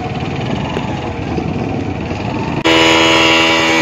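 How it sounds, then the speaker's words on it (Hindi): Motorbike with two riders on board pulls away, a steady engine drone that jumps abruptly louder and harsher near the end as it revs up, with a horn-like tonal blare over the engine. "बाइक पर एक्सीलरेट कर रहा है।"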